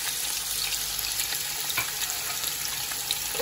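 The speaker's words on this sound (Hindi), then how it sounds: "ये प्याज भुन गई" Onions frying in a pan for a quick chicken pulao give a steady, dense sizzle that runs unbroken and close, with no talk over it.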